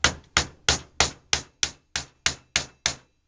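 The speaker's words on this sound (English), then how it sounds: "what I'm going to do now is I'm just going to take my screwdriver and tap this." A hammer strikes a flathead screwdriver held against the end bell of a Waterway Executive 315 1220 spa pump, producing ten crisp metallic taps in a steady, even rhythm before silence.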